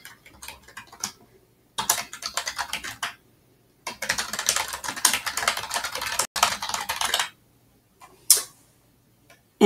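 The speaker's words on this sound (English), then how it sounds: "type in their first and last name" Fast typing on a computer keyboard, in bursts of quick close key clicks separated by short pauses, with no talking.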